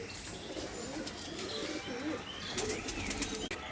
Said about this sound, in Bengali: কিছু গিরিবাজ উড়ে গেল তার সাথে,